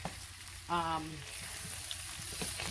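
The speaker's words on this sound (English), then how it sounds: "I'm going to give this a quick stir" Roasted potatoes frying in a pan get a quick stir, a steady soft sizzle running throughout, with a short harmonic scrape or squeak from the utensil early on, close and moderately quiet.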